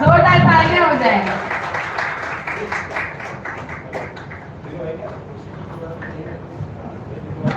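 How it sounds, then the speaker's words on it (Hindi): An audience at a singing audition in Dehradun claps to welcome the next contestant. The crisp clapping is loud at first, then settles into a steadier, somewhat fainter patter, with a voice briefly over the start. "अब हम जोरदार ताली से स्वागत करेंगे हमारे अगले कंटेस्टेंट का।"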